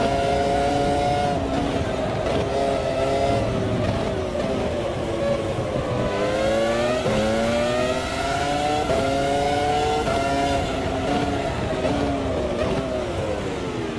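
V10 Formula 1 cars racing in the Automobilista 2 (AMS2) sim game, several engines screaming together, their pitch sweeping up and down through gear changes in a continuous, loud, dense roar.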